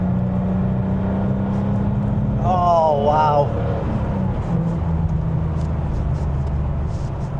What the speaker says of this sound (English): listening to that flat 6 exhaust behind me